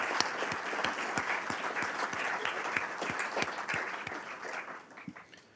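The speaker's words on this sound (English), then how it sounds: "So let's give her a round of applause" At an alumni fellow awards ceremony, a crowd gives sustained applause with distinct individual claps near the front, holding steady before tapering off toward the end.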